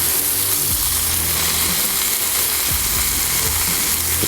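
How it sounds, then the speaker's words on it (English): Thick cut bacon sizzles steadily on a hot Blackstone griddle, a dense, continuous crackling and spitting close by, with occasional soft scrapes underneath. "The sizzle, the smell, just incredible."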